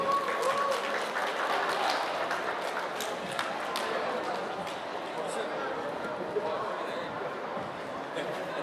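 Audience at a university campus busking event claps steadily as a student performer is introduced, a dense, continuous wash of applause with crowd murmur underneath, fairly close and even in level throughout.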